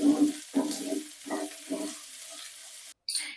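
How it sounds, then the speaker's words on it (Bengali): Vegetables being stirred lightly in a hot pan for a quick Bengali tiffin dish, giving several soft scraping strokes with faint sizzling between them, close and moderately loud, ending in a brief pause before a final short scrape. "এটা একটু নাড়াচাড়া করব।"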